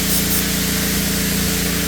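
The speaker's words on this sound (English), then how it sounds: "We'll spray them down with some brake cleaner." Brake cleaner sprayed from an aerosol can onto the caliper pins of a Tahoe's rear brakes, a steady loud continuous hiss lasting the whole two seconds, close up with no talk.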